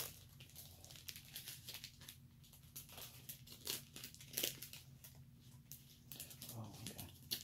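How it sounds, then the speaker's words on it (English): Packing tape being peeled and tugged off a cardboard box, giving crinkly tearing and crumpling bursts in an uneven rhythm, close and moderately loud, with no one talking. "Struggling with the tape."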